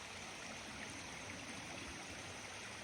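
Steady creek water streaming and trickling near a floating cabin, an even, continuous rush with faint gurgles and no voices.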